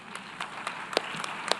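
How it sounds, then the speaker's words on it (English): Sparse, scattered handclaps from delegates at a United Nations anniversary meeting, a few separate claps spread across the moment rather than a full ovation, fairly faint in a large hall. "maybe we have applause for all of the speakers again"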